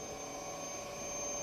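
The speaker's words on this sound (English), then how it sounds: "The supposedly supernatural sounds are overwhelmed by the utility room humming in the night." Steady electrical hum from a hotel utility room at night, a constant tonal drone with a high-pitched whine above it, continuous and unchanging with no voices.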